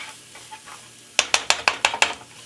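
Utensil scraping and knocking through zucchini and ground beef in a pan, about seven quick, sharp strokes in a steady rhythm, close and clear after a quiet start.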